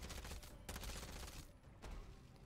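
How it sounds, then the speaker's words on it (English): An ISO 45 submachine gun fires in fast, dense bursts during a Modern Warfare 3 Zombies match, with brief pauses between the rapid volleys. "The thing about the ISO 45 is it has such a fast fire rate"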